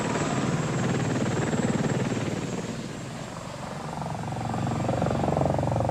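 An AH-64 Apache military attack helicopter drones steadily and loudly, its rotor thump continuous, easing slightly midway before swelling again, with no voices.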